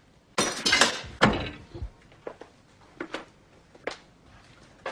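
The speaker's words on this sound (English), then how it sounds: "All your dishes are smashed, Jack." Dishes smashing, with a loud crash of breaking crockery followed by scattered sharp clinks and knocks of fragments settling, close and with no talking.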